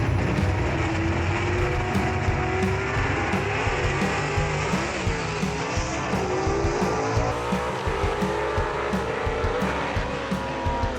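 Superstock drag race cars blast down the Knoxville Dragway, engines roaring loud and steady with rising and falling pitch sweeps and sharp crackling bursts, a continuous near, full-throttle din for the whole stretch.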